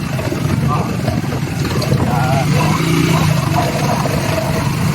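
Motorcycle riding along a rough mountain road, a steady close engine drone and rumble running the whole time beneath someone talking.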